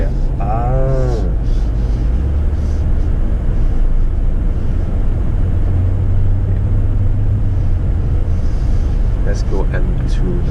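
Deep, steady engine and exhaust burble from a 2019 BMW M5 while driving, a low rumble running loud and continuous throughout, with brief voices talking over it near the start and end.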